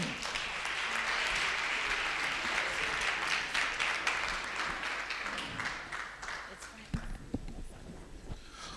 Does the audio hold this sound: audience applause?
yes